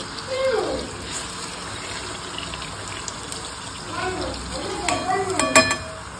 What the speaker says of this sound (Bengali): চলো লুচিগুলো সব ভেজে নিই।